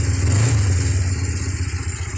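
A Kawasaki Ninja twin 500cc motorcycle engine idles steadily close by, a continuous low throbbing rumble with slight choke applied, no voices.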